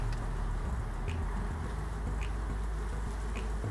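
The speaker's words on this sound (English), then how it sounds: "Yeah, good looking bees." Dense, continuous droning hum of many honeybees at a hive entrance, close by, with faint soft ticks and taps scattered throughout and no talking.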